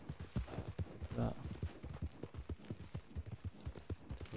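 A horse in Red Dead Redemption 2 clip-clops along in a steady, quick hoof rhythm, moderately close and fairly soft, continuing throughout with no speech over it.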